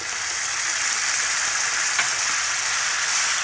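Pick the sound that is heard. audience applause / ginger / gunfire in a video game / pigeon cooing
ginger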